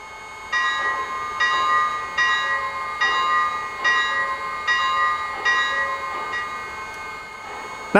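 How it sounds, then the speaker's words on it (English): Electronic bell of a Lionel Southern Crescent model locomotive rings in a steady rhythm, about eight evenly spaced metallic clangs at moderate volume, with no one speaking. "Here's the bell."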